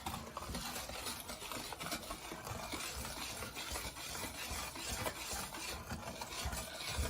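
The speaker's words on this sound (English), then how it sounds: "Whisk, whisk, whisk." Tangerine pie batter with baking powder is whisked in a bowl, a steady close scraping and stirring that runs continuously and evenly throughout.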